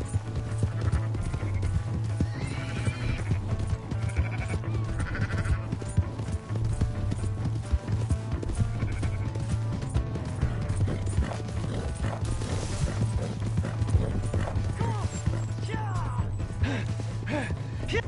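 Horse hooves clip-clop steadily through a busy Red Dead Redemption 2 game scene, the galloping rhythm running throughout under dense ambient sound and occasional animal calls.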